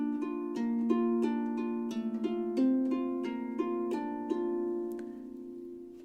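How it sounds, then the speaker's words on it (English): A piano left hand plays an Alberti bass arpeggio pattern, a quick, even repeating broken-chord figure of clear, close notes over about six seconds, with no talking. "It's the one we call the Alberti bass."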